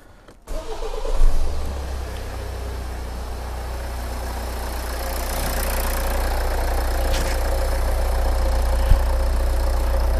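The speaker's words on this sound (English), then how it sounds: "Now I'm going to go and start the car" Hyundai car engine cranking and catching, then settling into a steady, close idle that holds without a break, while diagnostics for an EGR valve fault are underway.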